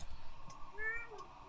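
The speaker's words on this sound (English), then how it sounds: "My cat's wanting attention." A pet cat meows once, faint and drawn out, under quiet background noise.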